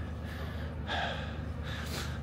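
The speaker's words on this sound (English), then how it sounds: "I'm actually breathing a bit heavy right now because I'm going up a hill." Heavy, ragged breaths from a cyclist riding uphill in winter in Montreal, a couple of loud gasping inhales over a steady low rumble of outdoor noise.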